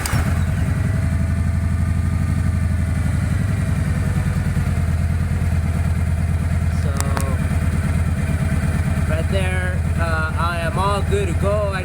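A Kawasaki Vulcan motorcycle engine idles with a loud, steady, throbbing rumble throughout, close by, with brief chirps and tonal beeps near the end.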